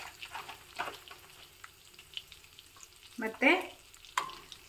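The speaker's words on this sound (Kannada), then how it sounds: "ಒಗ್ಗರಣೆಗೆ ಅಂತ 1 ಒಣಮೆಣಸನ್ನು ಕಟ್ ಮಾಡಿ ಹಾಕಿದ್ದೀನಿ" Dry red chilli pieces hit hot tempering oil alongside urad dal, curry leaves and asafoetida for brinjal rice, giving a close sizzle and crackle that flares sharply near the end after quieter background frying.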